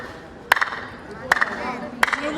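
Three sharp hand claps ring out inside Golconda Fort in Hyderabad, each followed by quick echoing reflections off the stone walls, over a low murmur of ambient noise.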